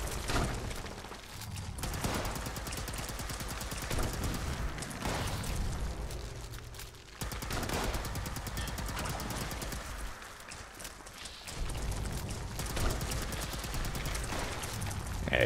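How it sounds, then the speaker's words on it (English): Rapid bursts of gunfire in the Fallout 76 video game, aimed at a Myler Queen, come in several long volleys separated by brief pauses, loud and close. "Someone is shooting at our Myler Queen"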